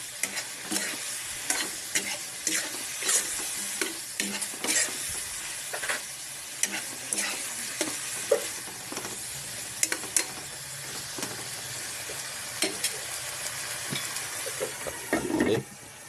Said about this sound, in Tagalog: Haluin natin yan.